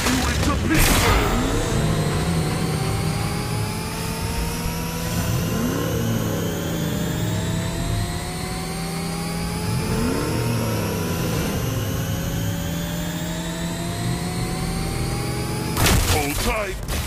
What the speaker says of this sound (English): I'm stepping on the gas!